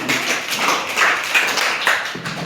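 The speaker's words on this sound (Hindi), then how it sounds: "इनके लिए जोरदार ताली।" Children in a classroom clap loudly in a steady, dense burst that lasts throughout, with no talking over it.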